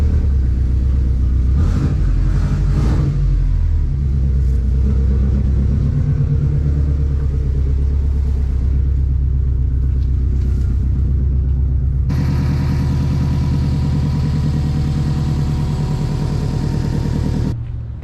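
Subaru STI engine running loudly and close by, a deep steady rumble that holds throughout with a slight shift in tone partway as the car is moved outside.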